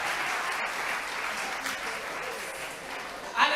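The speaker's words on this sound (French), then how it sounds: "Yes, it's clap for me." Quiet audience applause from a crowd gathered for a talk on Bishop Samuel Ajayi Crowther, a soft, steady patter of clapping heard from a distance for the whole stretch, with a brief louder burst at the end.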